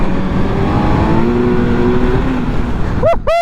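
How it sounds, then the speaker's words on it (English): A 2020 Kawasaki Z900 900cc naked motorcycle accelerating hard while its rear tire slides on a low-grip surface, a loud revving engine with a rising pitch, then a brief rider whoop at the end. "That's the back tire sliding, like it's just sliding."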